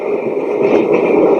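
A Noisli ambient sound mix of train tracks and a fan plays as a steady, even rumbling wash with a soft hiss on top, continuous and fairly loud, with no voices.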